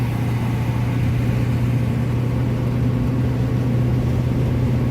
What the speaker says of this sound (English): It just seems that she doesn't idle very smoothly.